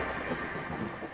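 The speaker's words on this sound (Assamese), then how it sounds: "এয়া দেখিলা বৰষুণ আহিলেই" Rain falling with a low rolling rumble of thunder, a brief steady wash of noise with no voices.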